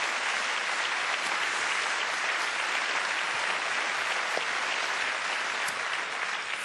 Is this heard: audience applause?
yes